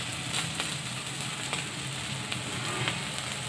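Shami kebabs fry in a pan with a close, continuous sizzle and crackle of hot oil, occasional sharper pops punctuating the steady hiss.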